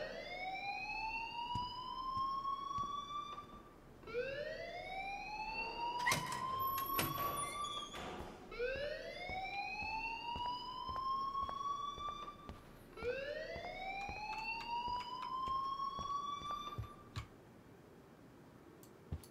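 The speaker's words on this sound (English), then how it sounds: "please turn off that alarm" A fire alarm in the video game Life is Strange wails in repeated rising sweeps, about four cycles, loud and steady with a few brief clattering sounds mixed in and no talking.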